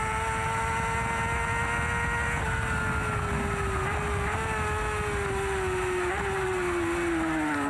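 A racing motorcycle at the Macau race screams at full throttle, a loud sustained high-revving engine tone that slides gradually in pitch with a couple of brief gear-change dips.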